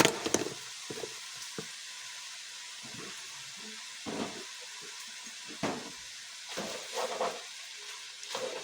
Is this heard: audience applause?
no